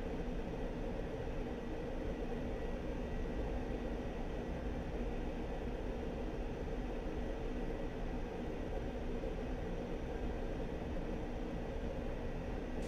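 Su-25T attack jet taxiing in DCS World, a steady, loud broadband engine roar and hiss holding constant throughout with no speech.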